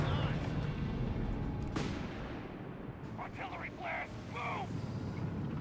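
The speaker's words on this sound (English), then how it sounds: "Artillery barrage called in here, registered artillery unleashed by Bambone." An artillery barrage in the Company of Heroes 3 strategy game rumbles with low, distant booms and one sharp impact crack, while a voice briefly speaks over the bombardment.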